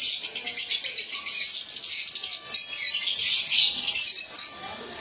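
Pastel lovebirds chirp in rapid, continuous high twittering, a close and busy chatter of several birds with a slight rattling edge, no voices.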